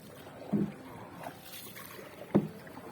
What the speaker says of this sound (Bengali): এই আমি নৌকা চালাই